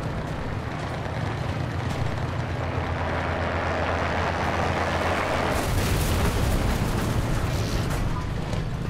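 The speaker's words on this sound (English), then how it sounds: "That was a useless bomb." A bomb blast in the World War II shooter Enlisted, a heavy low rumbling roar that swells across the whole stretch, with a sharper burst of noise late on, loud and sustained.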